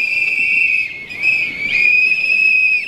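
Someone blows a safety whistle for a shrill, piercing tone that sounds loud and near, held almost throughout with a short dip partway through, and nobody speaks.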